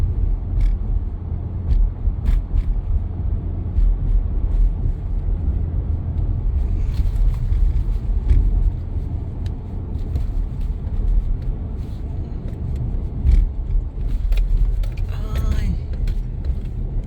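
Car interior rumble from driving over bumpy streets in Madison, Wisconsin: a steady low roar with scattered knocks and jolts throughout.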